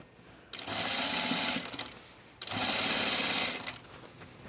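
A sewing machine stitches a ruffle on a dress sleeve in two loud, steady bursts of about a second each, separated by a short pause, heard up close with no talking.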